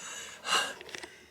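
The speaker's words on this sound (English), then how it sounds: "Gasp." A single short, breathy gasp in a quiet room, followed by a few faint soft clicks.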